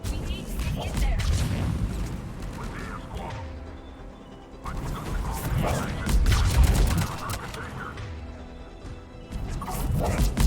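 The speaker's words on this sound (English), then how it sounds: "I see the checkpoint. They're taking fire." Gunfire at a checkpoint in the video game Mass Effect 3: dense, continuous bursts of shots and impacts in a loud battle mix, with voices talking over it.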